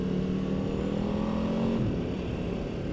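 Aprilia RSV4 1100 Factory superbike riding through a small village near Potter Heigham on the Norfolk Broads, its engine holding a steady, close, continuous drone that dips slightly near the end.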